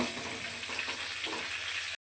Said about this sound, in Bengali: ওই তেলে এবার ফুলকপি ভেজে ফুলকপিগুলোকে একদম লাল লাল করে ভেজে নেব